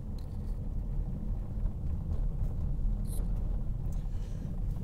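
A car drives downhill on a road near Kazachiy Brod, Sochi, with a steady low engine and road rumble heard from inside the vehicle throughout and no talk.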